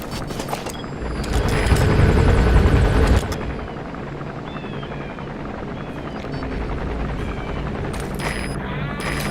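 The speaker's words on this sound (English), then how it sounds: "There's a chopper landing." Helicopter landing in Metal Gear Solid V: The Phantom Pain, with a loud rotor wash swelling early, then a steady, dense whir under game ambience and scattered higher effects.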